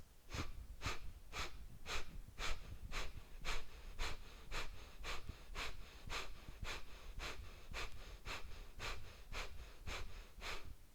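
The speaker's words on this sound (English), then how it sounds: "Sharp exhales out of the nose." Sharp, rhythmic nasal exhales during yoga breathing practice, about twenty quick forceful puffs at a steady pace of roughly two per second, close and clear with no talking.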